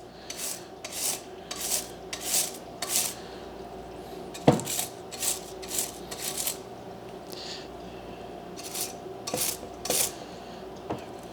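A brush scrubs sawdust coating off the sharp edge of a saw blade, making repeated short raspy strokes in an uneven rhythm at close range, with one sharp click partway through.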